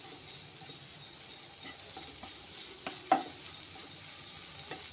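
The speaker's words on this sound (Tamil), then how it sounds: "தேங்காய் இதில் லைட்டாக வறுத்து எடுத்துக்கலாம்." Grated coconut dry-roasting in a pan, heard as a faint, quiet rustle with a few soft scrapes and taps from stirring, one slightly louder knock midway.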